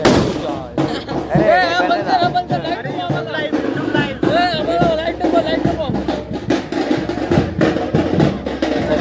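Sharp firecracker bangs pop irregularly amid a noisy outdoor crowd, with several people shouting and chattering over and between the blasts.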